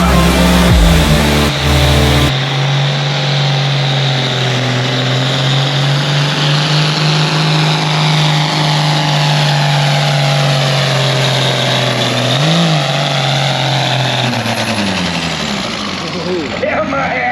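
A heavily modified tractor revs hard during a tractor pull, its engine roaring loud and sustained with a steady drone that rises and falls slightly as it pulls, a short sharp burst of noise at the start before the long run.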